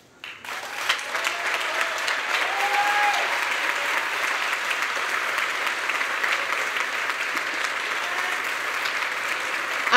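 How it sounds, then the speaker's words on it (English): Audience applause at a new student welcome ceremony for the admissions staff team, a steady, full round of clapping from a large crowd that starts abruptly and holds evenly throughout, with a few faint voices mixed in. "we could all applaud for them"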